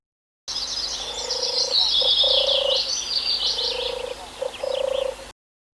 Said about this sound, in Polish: czyli turkawka. A czemu turkawka? Posłuchajcie jej odgłosów